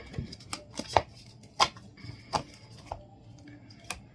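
Close, crisp shuffling of tarot cards in a series of short irregular riffles and flicks against a quiet background.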